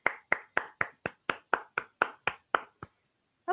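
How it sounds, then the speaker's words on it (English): A small audience at a Toastmasters meeting claps in an evenly spaced run of about a dozen sharp claps, close and crisp, then stops, followed by one faint trailing sound. "Let's give her a big round of applause."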